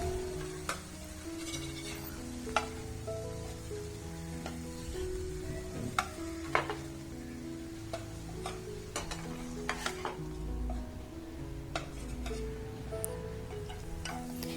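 Bread gently cooking in a buttered pan over a low flame, a soft steady sizzle with occasional clicks and scrapes close by, no talking.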